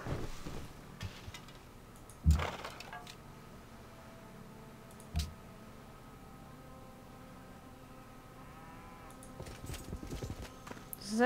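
Horse cavalry hooves from the strategy game Civilization 5 clop in a few scattered bursts over steady game ambience, with a couple of louder hits and faint hoof-like ticks.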